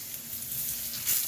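Sliced potatoes searing in a hot pan, a steady close hiss of sizzling that swells slightly at the end.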